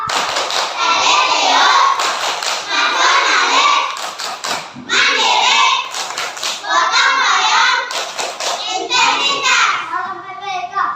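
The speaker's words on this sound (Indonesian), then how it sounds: "Dilanjutkan dengan tepuk PPK." A group, likely schoolchildren in a primary classroom, performs the PPK clapping routine, with rapid rhythmic claps and patterned taps in loud bursts, mixed with chanting voices throughout.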